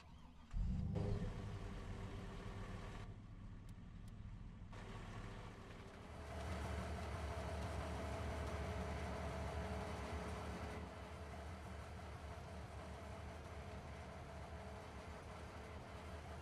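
Train in the Farming Simulator 25 game, a continuous low engine rumble with rolling wagon noise that swells after several seconds and then holds steady, with no talking.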